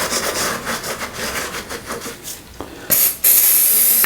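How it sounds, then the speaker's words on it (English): Several short bursts of hissing spray from a degreaser spray can, the last two loud and sustained, following a stretch of scrubbing and rubbing noises while cleaning a Massey Ferguson 23c tractor cylinder head. "I'm just going to spray it one more time."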